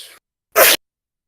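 A single sharp human sneeze bursts out close and loud after a brief faint sound, then silence.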